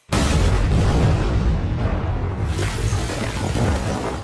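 A large explosion in the James Bond film No Time To Die: a sudden, very loud blast that becomes a sustained roaring rumble with debris noise, fading only slightly over four seconds.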